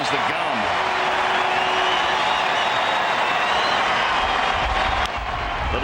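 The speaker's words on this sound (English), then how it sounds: "Here comes the crowd." A Detroit Tigers home crowd at a 2006 regular-season baseball game roars in a loud, broad, continuous wash of cheering that holds steady throughout.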